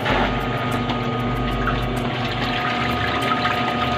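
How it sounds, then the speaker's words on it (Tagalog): Water steadily running into an automatic washing machine converted to manual operation, a continuous close, even gushing fill with a low pump-like hum beneath, no talking. "lalagyan na po namin ni Sir ng tubig"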